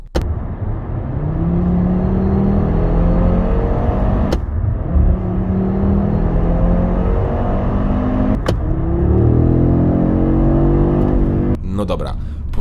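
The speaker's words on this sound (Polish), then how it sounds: "posłuchajmy jeszcze raz, jak brzmi nowe RS3, które ma aktywny wydech" A 2023 Audi RS 3 Sportback with its 2.5 TFSI five-cylinder and active exhaust revs hard through repeated gear pulls, its loud raspy tone rising with each gear, broken by sharp crackles at the shifts and a burst of pops at the end.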